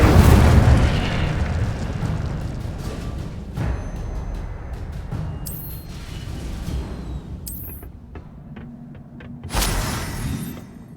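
Incendio fire spell blasting in the video game Hogwarts Legacy: a loud booming burst at the start, then crackling rumble that fades, with sharp bright pops and a second blast near the end.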